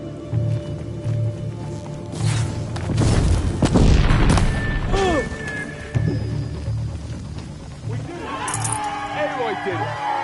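Heavy booming explosions from incoming fire ring out in the video game Horizon Zero Dawn, building to a loud dense cluster midway, with rumbling low impacts and scattered electronic whines over a steady game soundscape.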